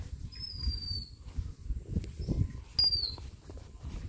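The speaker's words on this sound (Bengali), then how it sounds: "কত সুন্দর পাখির ডাক, মন জুড়িয়ে যাওয়ার মতো।" A few thin, high bird calls ring out briefly in a rural Bangladeshi village, faint and spaced apart over a low, rumbling outdoor background.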